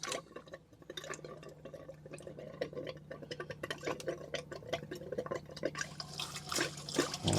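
Water runs from a tap in a VW T4 camper van's onboard water system, a steady close splashing and trickling with scattered drips and a faint pump-like hum underneath, with no talking.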